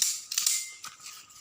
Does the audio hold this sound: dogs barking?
no